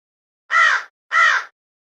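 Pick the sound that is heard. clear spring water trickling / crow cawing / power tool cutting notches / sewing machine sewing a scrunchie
crow cawing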